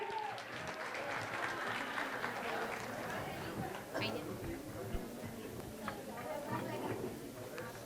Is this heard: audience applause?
yes